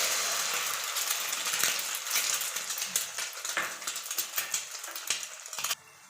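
An egg fries in hot oil, a steady bright sizzle dotted with sharp crackles and pops that grows busier, then drops suddenly to a quiet hiss near the end.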